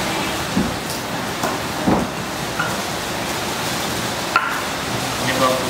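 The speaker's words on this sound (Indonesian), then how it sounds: "Hujannya gede banget." Heavy rain pours outside a home kitchen, a constant broadband hiss with a few scattered light knocks and clinks rising briefly above the downpour.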